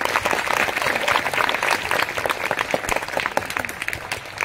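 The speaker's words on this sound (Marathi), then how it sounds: "आणि त्यासाठी एकदा सरांसाठी जोरदार टाळ्या झाल्या पाहिजे" An audience at a workshop on making eco-friendly colours breaks into loud, sustained applause for the teacher, with dense clapping throughout and no talk.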